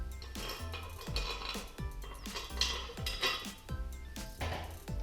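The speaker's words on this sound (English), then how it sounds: "Install your 4 bolts." Four bolts are fitted on a Tremec Magnum XL transmission, with a run of metallic clinks and taps in a regular rhythm, close and fairly faint.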